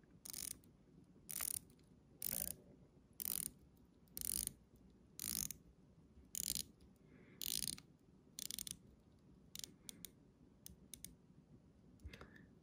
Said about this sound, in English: But let's check out the turn action of the bezel.